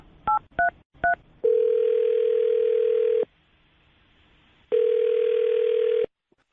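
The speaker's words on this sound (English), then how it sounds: "I'm going to dial his phone number right now" Dialing a phone number on a telephone: three quick touch-tone beeps, then two long steady ringback tones separated by a pause, clear and close.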